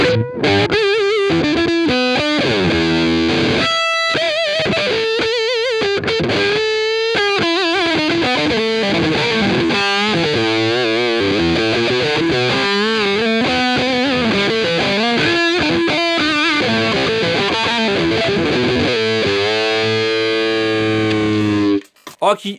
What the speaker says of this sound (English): You can get this kind of woman tone